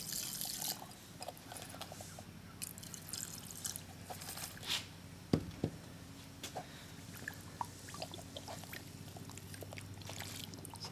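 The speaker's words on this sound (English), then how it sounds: "then just enough water to come up to the top of the level of that" Water poured and trickling into a rock tumbler barrel filled with media and brass cartridge cases for reloading, a soft steady liquid sound with a few clinks, close and fairly quiet, no voices.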